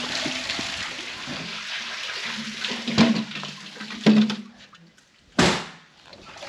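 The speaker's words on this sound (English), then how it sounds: "You put it down, you wind it, and then you bring up water" Water and metallic creaks from a bucket being wound up an outback well on the Canning Stock Route, with a steady splashing wash, a few clunks and squeaks, and a sharp knock near the end.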